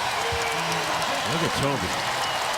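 A basketball arena crowd applauds as a player returns to the bench, the clapping a steady wash beneath a broadcast commentator talking over it.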